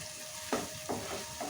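Garam masala and coriander powder fry lightly in oil for a ridge gourd curry, with a quiet steady sizzle broken by two or three soft stirring swishes, close by.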